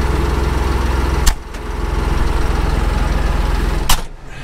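A tractor engine runs steadily at close range while haymaking, a constant low rumble with two brief sharp bursts of noise along the way. No one speaks.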